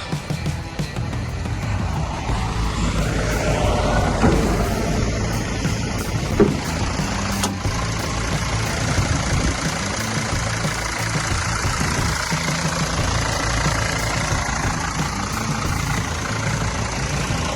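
A 2003 Dodge Sprinter 2500 high-roof van idles steadily with its hood open, a close, even engine rumble with faint knocking texture running throughout.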